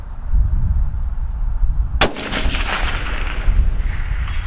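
A single loud rifle shot, fired with a handload of H4350 powder and 108-grain Berger bullets at a precision rifle match, cracks sharply and then rolls into a long echoing decay over steady outdoor wind rumble.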